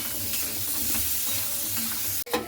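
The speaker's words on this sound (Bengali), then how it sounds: "খুব ভালো করে লবণ আর হলুদটাকে দিয়ে একটু নাড়াচাড়া করে নিচ্ছি" Salt and turmeric get stirred into something frying in a pan, giving a moderate sizzle with soft scraping strokes. Near the end a sharper clatter or burst briefly breaks through.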